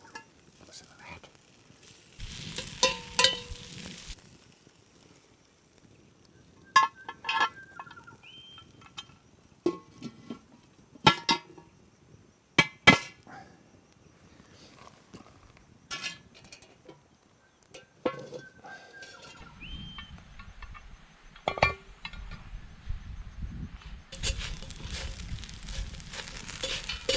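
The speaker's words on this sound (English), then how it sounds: "Chips going there in the camp oven." Chips cook in a camp oven over a campfire beside a river, giving soft, faint sizzling and crackling with scattered sharp pops and occasional light clinks, mostly alone with quiet outdoor ambience.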